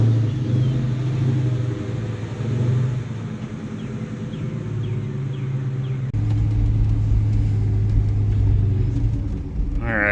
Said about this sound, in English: So let's take it for a drive and see if it's any better.